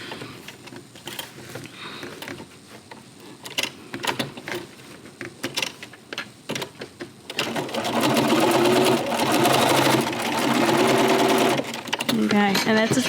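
A sewing machine stitches quilt binding in a loud, fast whirring run in the second half, with short bursts of stitching and handling noises earlier under a speaking voice.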